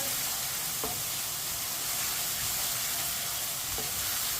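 Chicken with crushed ginger fries over a medium flame in a pan, a steady close sizzle and hiss with a couple of brief spoon knocks against the pan.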